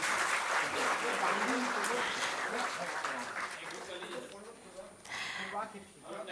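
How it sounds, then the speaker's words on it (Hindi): Audience applause at an award ceremony honouring digital media figures, moderate clapping that fades over several seconds, with people talking over it. "जोरदार तालियां होनी चाहिए।"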